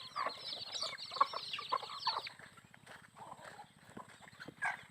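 Small chicks peep and a mother hen clucks close by, with bursts of high cheeping early on and softer calls later over faint rhythmic background noise.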